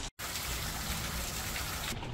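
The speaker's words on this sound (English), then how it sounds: "Sally, beautiful little waterfall." A small waterfall beside a mountain bike trail in Bentonville, Arkansas, gives off a close, continuous rush of falling water, loud and even after a momentary dropout at the start.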